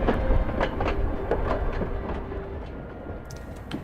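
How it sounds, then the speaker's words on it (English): A train rumbles along in the video game Moonlight Peaks, a loud, steady rolling roar with rhythmic clicking wheel beats and a faint whistle-like tone, fading slightly toward the end. "Is the train too loud?"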